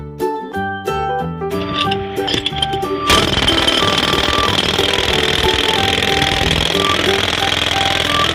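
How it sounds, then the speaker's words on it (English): A children's toy jackhammer from a toy tool set plays a short electronic jingle, then switches to a loud, continuous rattling buzz that runs steadily to the end. "jackhammer."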